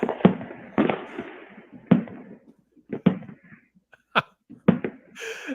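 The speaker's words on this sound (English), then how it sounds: "fireworks be distracting" Fireworks explode outside in a string of sharp, irregular bangs and pops, some in quick pairs, separated by short quiet gaps, with a brief crackling burst at the very end.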